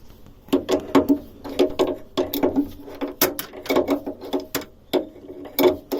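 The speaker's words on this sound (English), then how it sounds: "So I want to unbolt this next and try and pull it up away from the mount completely." A ratchet clicks in quick bursts while unbolting an engine mount on a Beta 38 narrowboat engine, giving close, sharp repeated clicking strokes with brief pauses between each swing.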